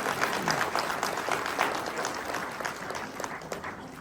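An audience at a business plan meeting applauds steadily, a dense wash of claps holding at an even level for the whole stretch with no voices standing out.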